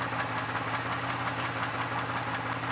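A 2002 Chevy Malibu engine runs steadily with a constant mechanical drone and faint knocking texture, close and continuous, with no clear rise in revs evident.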